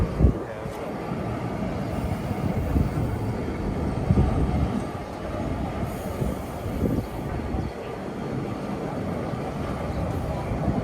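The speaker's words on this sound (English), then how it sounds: "These trams are passing like every 5 minutes and they're so packed." Crowded Lisbon trams rumble past on street rails in an old neighborhood, a continuous loud clatter with wheel squeals and knocks, while a person talks intermittently over the noise.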